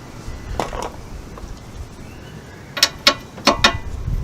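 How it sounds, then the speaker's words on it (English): Brake carrier mounting bolts are undone on a Citroen Relay with a ratchet wrench. A few clicks come first, then a louder cluster of sharp ratcheting clicks near the end, close up and with no talk. "I'm going to undo the carrier mounting bolts,"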